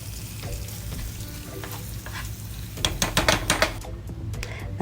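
Haitian-style breakfast frying in a pan: a close, steady sizzle with scraping and clattering stirring strokes that swell briefly toward the end, no voices over it.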